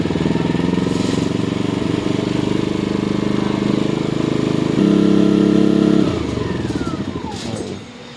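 A small portable generator engine runs with a steady, loud chugging drone, its pitch shifting briefly before it winds down and quiets near the end.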